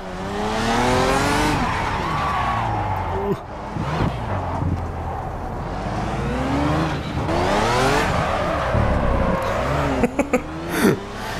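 A Pagani Cinque Roadster on the Azure Coast track in Project CARS revs loudly through gear changes, engine pitch rising and falling under braking and acceleration, with tire squeal in the corners.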